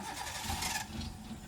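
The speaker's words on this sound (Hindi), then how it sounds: "वापस क्लच दबा के इंजन ऑन करो।" A manual car's engine cranks and restarts after stalling from a sudden clutch release on an uphill slope during a driving lesson, a steady mid-loud churning rumble that swells briefly in the middle, with no talk over it.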